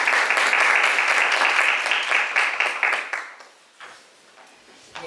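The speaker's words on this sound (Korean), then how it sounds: "박수 부탁드립니다." Audience applause at a university innovation forum, greeting a professor's presentation. Dense clapping fills the first few seconds, then thins to a few scattered claps and fades out.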